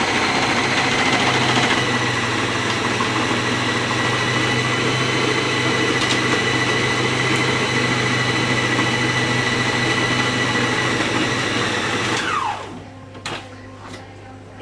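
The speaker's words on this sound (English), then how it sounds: "And now we need to put on speed 1" A food processor mixing chocolate chip cookie dough on speed 1, a loud steady motor whir with a labouring hum that runs unbroken for about twelve seconds, then winds down and stops, followed by a few light knocks.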